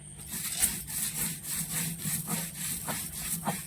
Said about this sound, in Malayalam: നമ്മൾ ഈ പപ്പടവും കൂടി വെച്ച് ഈ ചമ്മന്തി നമ്മളങ്ങ് അരയ്ക്കുവാണ് നല്ലവണ്ണം